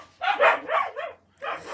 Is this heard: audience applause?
no